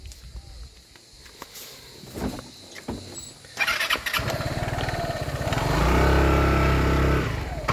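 Small motorbike on a stone-built coastal village road on Samos, Greece, with a few clicks and footsteps before the engine catches and settles into a loud, steady idle close by.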